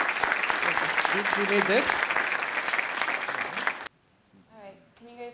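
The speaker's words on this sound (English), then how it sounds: "Let's give a round of applause to Shyama Rose." An audience at a security conference applauds speaker Shyama Rose, a dense, sustained round of clapping that cuts off abruptly, followed by a brief spoken exchange close to the microphone.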